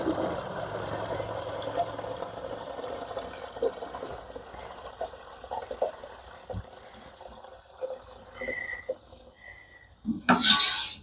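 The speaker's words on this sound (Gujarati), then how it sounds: "દૂધ આપણું ગાયનું બધું ભરી લઈ" Cow's milk is poured into a container in a steady, soft liquid stream with faint clinks, ending in a brief louder splash and clatter.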